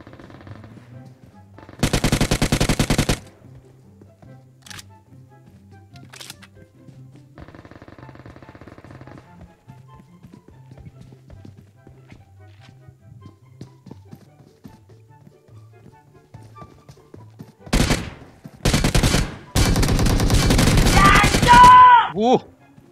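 Video game gunfire comes in loud, close bursts. One sustained spray comes early, then after a long quiet stretch with faint ambient sounds several more bursts arrive near the end, the last the longest, with a voice talking in between.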